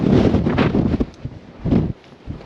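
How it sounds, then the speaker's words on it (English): Strong gusts of wind on the summit of Wheeler Peak, New Mexico, roar and buffet the microphone, rising and falling in loud bursts with no talking. "The air up here is thin, super windy"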